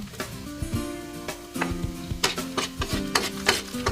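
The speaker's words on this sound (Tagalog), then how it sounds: "At ilagay ko na yung bawang." Garlic is added to a pan for lomi, giving a soft sizzle with repeated scraping and clinking of a utensil stirring against the pan, along with a faint background hum.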